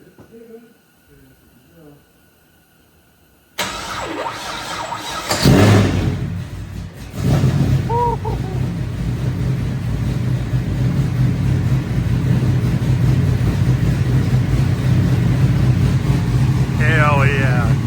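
A 500-horsepower Pontiac GTO engine turns over on the starter, then fires up loudly and settles into a steady, rumbling idle that holds close and constant to the end, after a quiet stretch at the start.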